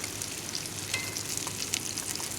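Fish fillets frying in a pan, crisping toward a dark brown color, give a steady close sizzle and crackle, with faint stirring scrapes and a few brighter pops, and no one talks.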